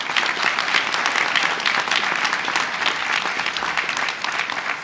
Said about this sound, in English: So will you please join me in applauding the very best of our Wolfpack